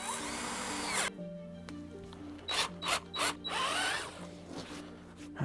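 A power drill whines steadily through willow sticks, pauses, then runs in several short bursts before one longer grinding pass, close up with no talking.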